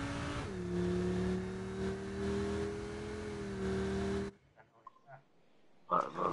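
A car engine in the video game H1Z1 revs and holds a steady loud drone, then cuts off abruptly, followed by a few faint scattered sounds and a brief louder burst at the end.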